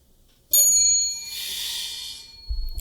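A single bright bell rings once on a gardening podcast, a sharp metallic strike that rings out and fades over about two seconds, followed by a low thump.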